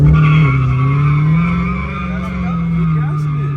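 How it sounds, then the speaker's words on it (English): A Dodge Charger Hellcat holds a loud, droning engine roar with tires spinning and squealing in a burnout, the pitch wavering slightly, while people talk over it. "you gotta like mash the gas so it can start a burnout"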